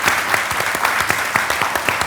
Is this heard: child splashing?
no